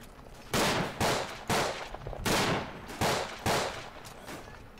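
Rifle shots from a World War I shooter, Verdun, boom out loud and close in a measured rhythm, about six heavy blasts spaced roughly a second apart with a rolling tail after each.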